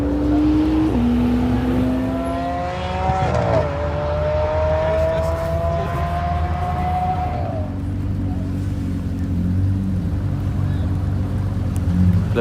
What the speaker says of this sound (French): Là vous avez Monsieur Pagani, Horacio, en train de conduire une belle Zonda.